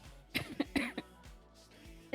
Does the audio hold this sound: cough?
yes